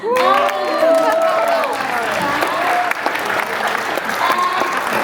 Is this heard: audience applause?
yes